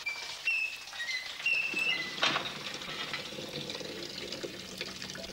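Wet latex passes through a mangle, giving a splashy, dripping trickle of squeezed water with squeaky high chirps over a low mechanical background.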